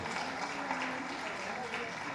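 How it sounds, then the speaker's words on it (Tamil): Audience applause at a movie pre-release event, a steady wash of clapping with voices talking over it throughout. "கைத்தட்டுங்க, அருமையான பாட்டு"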